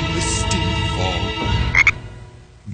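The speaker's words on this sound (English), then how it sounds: "a green and lovely frog croaking miserably in the misty fog" A green frog croaks in a misty fog in the Dazzeloids fantasy game: a loud, steady, raspy croaking that runs throughout, with a higher chirp near the end and no talking.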